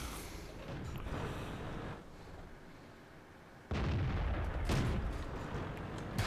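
Tank gunfire in the online game World of Tanks: loud booming, crackling blasts in dense bursts, with a sharp louder salvo midway, set against battle noise and no talking.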